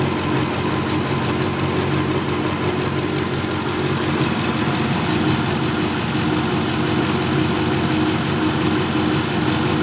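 Dodge Ram 5.7L engine idling just after its first start following a water pump replacement and vacuum coolant bleeding, a steady, loud, even engine hum with constant vibration and no pauses.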